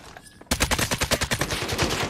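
A rapid burst of automatic gunfire erupts in the Lost Light shooter game, a dense string of loud, evenly spaced shots firing close by after a brief quiet moment.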